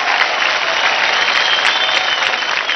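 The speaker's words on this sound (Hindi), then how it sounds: "फैंटास्टिक जोरदार ताली आ जाए ऋषिका के लिए।" Loud, continuous applause from a studio audience at a televised dance competition fills the space, a bright and dense roar of clapping with faint cheers, sustained without a break.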